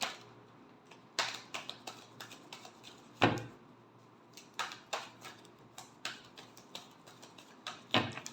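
Tarot cards are shuffled close by, with a run of quick, crisp flicks and taps at irregular intervals and a few louder snaps.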